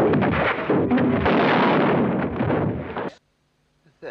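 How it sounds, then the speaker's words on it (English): A burst of gunfire from a Hitchcock film scene sounds as one sustained, loud, rumbling blast with crackling reports lasting about three seconds, then cuts off abruptly into silence. "Of course, we've got our fair share of gunshots."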